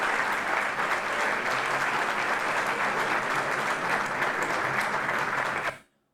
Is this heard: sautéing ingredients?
no